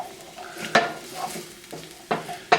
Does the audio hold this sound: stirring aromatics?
yes